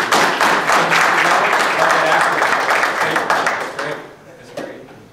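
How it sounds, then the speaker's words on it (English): Audience applause for Faye and the girls at a sorority research colloquium, a broad steady wash of clapping that fades out near the end, with voices mixed in. "Let's give Faye and the girls a round of applause."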